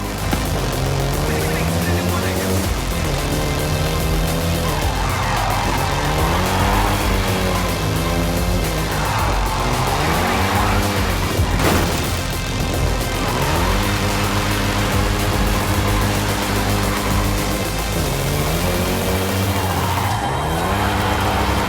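A Volkswagen Golf GTI engine driven in Forza Horizon 5 with Mexico scenery, revving loud and close through repeated rising and falling sweeps as it shifts gears, with one sharp burst midway.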